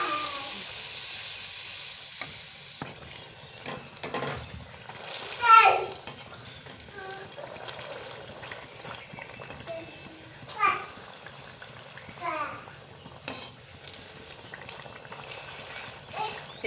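Malpua batter frying in hot oil, a steady soft bubbling sizzle that runs throughout, with a few brief louder bursts and some background voices.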